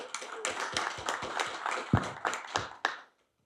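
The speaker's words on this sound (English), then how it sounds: "So let's give them a round of applause." A round of applause at a club seminar: a small group claps in sparse, uneven bursts for about three seconds before it stops abruptly into silence.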